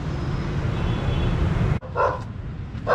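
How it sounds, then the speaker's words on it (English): On a street in Nha Trang, Vietnam, a dog barks at a visitor, giving a few sharp barks close by over steady outdoor background noise. "The dog's just let me know in certain terms that he doesn't want me here."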